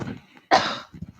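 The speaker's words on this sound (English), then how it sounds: "sorry, I'm coughing" One sharp, loud cough from a person bursts out between stretches of quiet, murmured speech.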